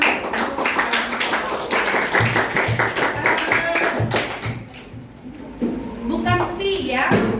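A ninth-grade mathematics class claps after a group presentation, a brisk round of rhythmic hand claps from students close by, mixed with children's voices and chatter, fading as talk resumes.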